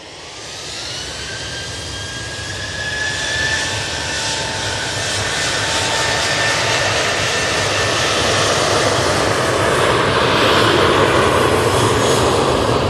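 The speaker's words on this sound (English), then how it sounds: "Etihad, good morning to you as well. Using the 787-10 Dreamliner today." An Etihad Boeing 787-10 Dreamliner's jet engines roar loud and steady, building gradually in power over a broad rushing wash with a rising whine, no voices present.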